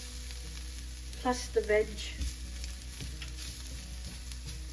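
Beef bits and vegetables sizzle softly in a pan, a steady low hiss with brief clinks of a utensil, while a person talks over it.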